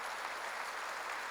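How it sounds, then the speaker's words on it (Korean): Steady, dense applause from a congregation during a church worship service, a brief, even burst of clapping with no voices over it. "박수를 하나 더 주세요"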